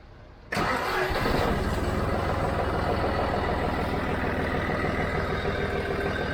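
A Kubota tractor engine starts after a short cranking burst and settles into a loud, close, steady diesel idle with an even low throb, with no talk.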